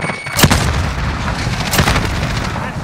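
A grenade explosion in Call of Duty: Modern Warfare during a Shoot House hardpoint match, a sharp boom followed by another blast amid constant loud combat noise.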